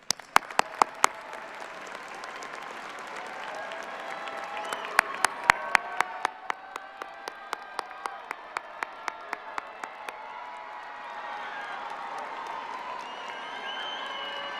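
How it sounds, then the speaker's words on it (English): A graduation crowd applauds at the 2023 Chapin ceremony; steady clapping swells and lingers, with sharp close individual claps standing out in spaced bursts over the broader applause. "let's give them a round of applause"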